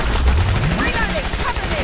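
A double-barrel shotgun fires in the game Killing Floor on the Transit map, loud blasts packed into dense game noise with voices and tonal effects running through.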